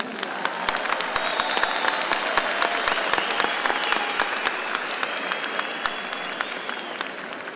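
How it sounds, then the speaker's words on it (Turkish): A large seminar crowd gives a sustained, steady round of applause, dense clapping that stays loud and even throughout. "Round of applause, everybody."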